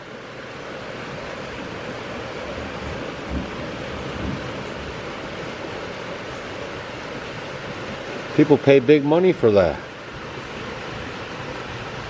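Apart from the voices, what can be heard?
heavy rain downpour outside the window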